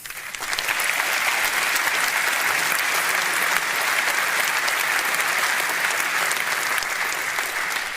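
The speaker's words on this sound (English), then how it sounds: "All great stuff, which is getting huge applause in the room this evening" Sustained applause from a large audience at a Reform UK political rally in Hull, a loud, dense wash of clapping that swells in within the first second and holds steady throughout without talk.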